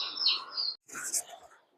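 Young layer chicks in a poultry house give high, bright chirps and peeps in two short bursts separated by a brief gap, close and clear with no talk.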